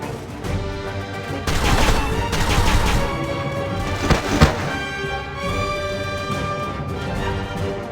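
Sniper volleys in the Final Fantasy War of Visions video game, a dense flurry of sharp cracks and impacts at varying loudness over a musical background, no speech.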